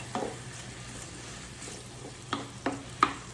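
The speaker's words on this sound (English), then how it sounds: "we're going to just let those go ahead and brown and do their thing" Onions browning in melted butter for Philly cheesesteak give a soft, steady sizzle with a few sharp stirring scrapes near the end, close and fairly quiet.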